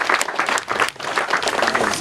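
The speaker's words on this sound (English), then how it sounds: "I would like all of us to give hand claps" An audience at a function applauds together, dense steady hand clapping filling the room with a brief dip midway.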